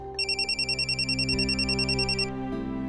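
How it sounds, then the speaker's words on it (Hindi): A landline telephone rings insistently in a home, its electronic trill pulsing in rapid repeated bursts over soft background music, fairly close and loud. "किसका फोन है?"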